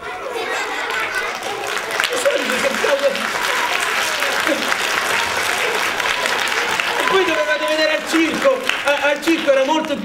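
Audience applause at a theatre performance, sustained crowd clapping with scattered voices mixed in, steady and fairly loud across the whole stretch, while a performer talks over it in places.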